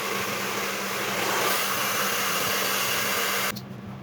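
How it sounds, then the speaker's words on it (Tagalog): A hair blower roars steadily at close range while hair is dried during a haircut, then cuts off abruptly near the end. "Puro blower si tropa ko dyan."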